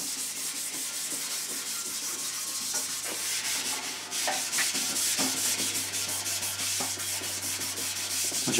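A scuff pad rubs back and forth over car lacquer to flatten the shine, giving a steady, close, gritty scrubbing with brief pauses and quick strokes, alone without talk.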